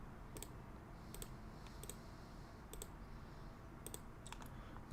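Keys tapped on a computer keyboard to enter a simple password, a few separate clicks in short bursts, faint against a steady background hum.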